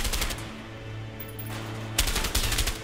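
Gunshots in the game A Way Out, a steady run of close, loud rapid-fire shots with a sharper burst near the end, no talk over it.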